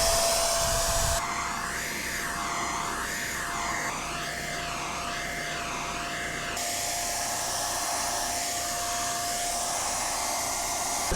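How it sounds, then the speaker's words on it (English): Paint sprayer spraying a house floor, a loud steady high-pitched machine whine and hiss running continuously throughout, with a sharp start and a slight change in tone midway. "that's also why we're choosing to use a sprayer, which is gonna make a masking mess"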